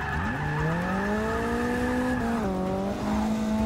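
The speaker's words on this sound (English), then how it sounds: "Best drift so far, I think." Car drifting in Forza Motorsport 6 with a loud, sustained tire squeal over a steady engine drone, its pitch sliding and wavering as the slide continues for several seconds.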